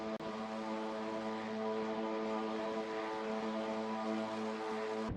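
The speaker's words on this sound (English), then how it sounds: "As the engines roar to life" Race car engines idling together on the grid in the racing game SimSpeed Super GT, a steady droning hum with stacked buzzing harmonics, loud and continuous with no talk.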